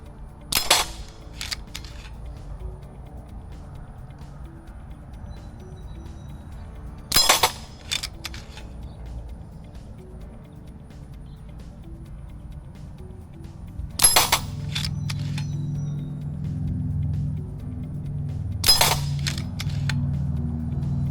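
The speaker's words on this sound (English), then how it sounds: "Try some shooting offhand at these silhouette targets by RX Target Systems." Four sharp cracks from a pump action air rifle ring out at the range several seconds apart, each with a quick metallic ping off steel silhouette targets, and a low background hum rises partway through.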